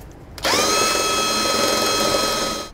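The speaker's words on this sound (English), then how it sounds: "We're not going to drill out that marked spot using a quarter inch drill bit" Power drill with a quarter-inch bit boring a hole during Air Lift LoadLifter 5000 air helper spring installation on a 2007 Ford, starting abruptly and whining at a steady loud pitch for about two seconds before winding down.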